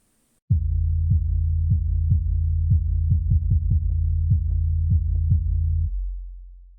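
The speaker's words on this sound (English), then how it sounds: "So now our sub bass sounds like this." A deep, smooth 808 sub bass with the high end cut above about 200 Hz, playing a pattern of low notes with sliding pitch, no treble at all, followed by a fading tail.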